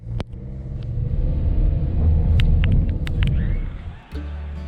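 A car drives along a street in the town of Mirny in March, its low engine rumble steady and close, with scattered clicks and brief bumps over the road before a short dip near the end.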